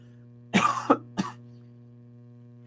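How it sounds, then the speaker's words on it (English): A short cluster of coughs, two or three harsh bursts close to the microphone during a podcast recording, over a low steady electrical hum. "This cough is killing my flow, man."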